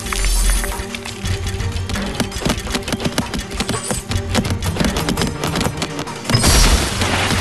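Archidon archers firing in the Stick War Legacy video game, with dense repeated volleys of arrow shots and booming impacts crowding a loud, busy battle mix throughout.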